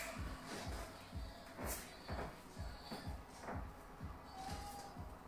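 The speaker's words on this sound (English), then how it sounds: "squeaky floor." A wooden floor squeaks and thumps under steady, rhythmic steps during a beginner PiYo home workout of squats and lunges, the creaks recurring with each move at close range.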